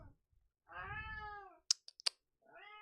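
Cat meows loudly at a corner indoors: a long drawn-out yowl, then a few sharp clicks, then the start of another meow, close and alone.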